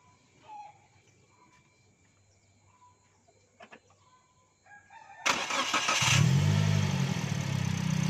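A Daihatsu Sigra car engine cranks and catches after a jump start with jumper cables on a flat battery. Quiet ambience with faint clicks comes first, then the starter bursts in and the engine settles into a loud, close idle.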